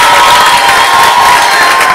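A loud, dense wall of applause and cheering from a live show audience greeting a man who volunteers to dance, sustained crowd noise with shouts and whistles throughout.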